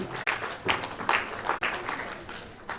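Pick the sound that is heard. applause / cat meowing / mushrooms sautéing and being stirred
applause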